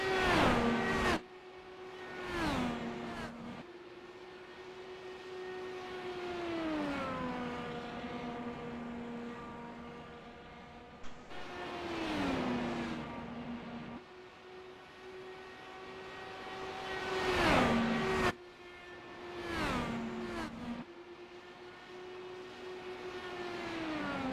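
IndyCar race cars in a racing video game at Iowa scream past in repeated pitch-falling engine whines, with the loudest passes standing out against a steady motor drone.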